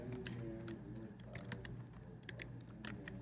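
Typing on a computer keyboard, a quick irregular run of light, close key clicks over a faint steady hum.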